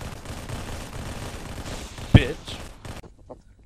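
Gunfire in the video game Halo 3 crackles in rapid bursts under excited voices, with one sharp loud shot near the end before things quiet down.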